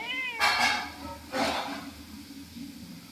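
A cat meows twice, loud and close, the cries drawn out and wavering, with a calm rainy outdoor hush behind.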